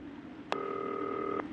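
A single electronic telephone ring in the video game Not For Broadcast, a sharp buzzing tone lasting about a second over a quiet low hum.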